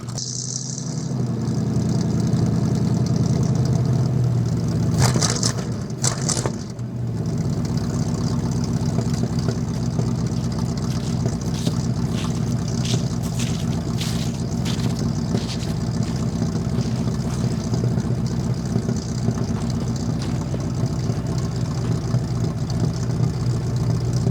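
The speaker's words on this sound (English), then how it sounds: "we'll run it long enough to let it, you know, try to idle itself down" An old car engine idles steadily after a cold start in freezing temperatures, a loud continuous rumble with a slight rattle, plus a brief louder disturbance partway through before the idle settles back to an even drone.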